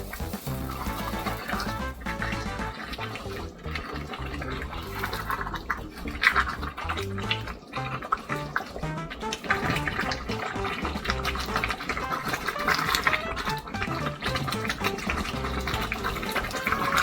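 Water poured into a cooking pot of Nigerian egusi soup after smoked fish has been added, a steady continuous splashing fill running throughout at moderate, close level with no talking.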